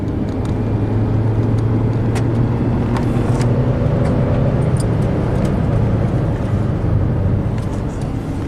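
A Chevy Cruze turbo engine accelerating under boost while running rough and rich, a steady loud drone with rising tones inside the car, no talk.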